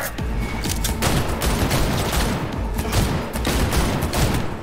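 Sustained gunfire in the Cyberpunk video game, a dense, loud fusillade of rapid shots and booms rattling continuously for several seconds with no pauses.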